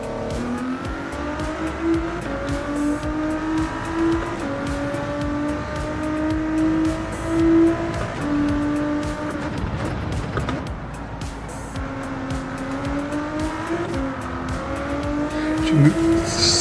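A race car laps a track in a racing video game, its engine whining steadily and shifting pitch through upshifts and downshifts, close and continuous, with a voice talking over it at times.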